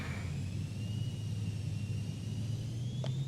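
Twin-free single jet engine of a Cirrus SF50 Vision Jet G2 spooling at takeoff power in Microsoft Flight Simulator 2020: a steady, loud low rumble with a rising high whine, continuous and unbroken.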